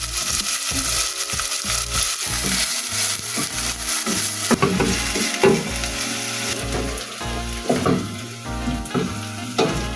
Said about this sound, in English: Let's fry our onions.